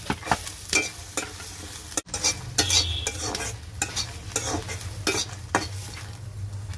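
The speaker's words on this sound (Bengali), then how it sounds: "এখন আমি শুকনো মরিচটা বেজে নিচ্ছি, রসুনটা বেজে নিচ্ছি।" Dry red chillies and garlic fry in a pan with a steady close sizzle, punctuated by repeated scraping stirs of a utensil against the pan, with no talking.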